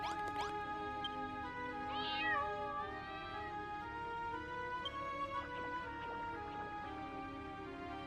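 Cat meowing in Dragon Quest Builders 2, several clear, rising mews standing out over a steady bed of game music, fairly close and loud.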